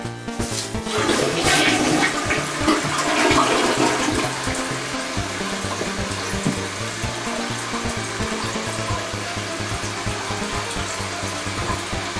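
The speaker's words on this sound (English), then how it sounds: "Give it a test flush." A toilet flushes as a test after a bathroom plumbing repair, a loud rushing surge of water followed by a steady refill hiss that runs on for several seconds, heard alone.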